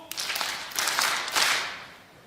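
A church congregation claps together in a quick rhythmic pattern, a dense burst of many hands heard from across a large hall.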